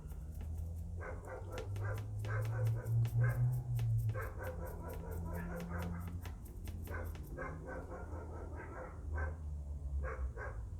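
A dog barks in short, repeated yips and whimpers anxiously through an indoor room, the upset sounds coming in irregular bursts over a low steady hum.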